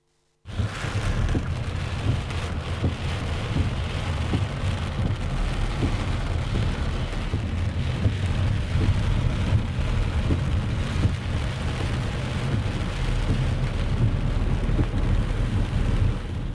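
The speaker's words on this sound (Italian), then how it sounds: "ho detto una grandine, forse sarà la grandine, ha bucato la grandine grossa, ha bucato il tetto" Heavy hail pounds the roof of a farm shed near Treviso during a violent storm, a dense continuous roar with rumbling low end and constant sharp impacts, loud and steady throughout with no voices.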